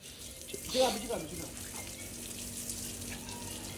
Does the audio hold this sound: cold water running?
yes